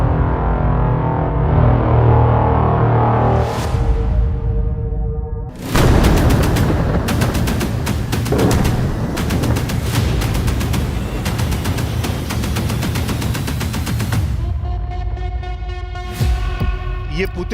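Bombing and gunfire in the Syrian war, around Aleppo, Idlib and the Damascus highway: a loud, dense stretch of booming blasts and crackling fire runs for most of the span, with rumbling quieter passages before and after.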